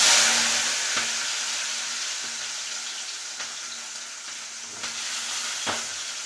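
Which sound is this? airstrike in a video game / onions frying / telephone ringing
onions frying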